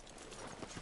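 Horse hooves clip-clop at a walk in the Red Dead Redemption 2 video game, muffled rhythmic steps beneath a dense ambient wash of town background noise.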